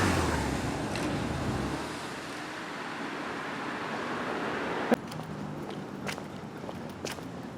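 A big truck rolls in through an opening gate at the Paramount Pictures studio lot, its engine a steady close rumble that eases after a couple of seconds, followed by a few sharp knocks and clicks.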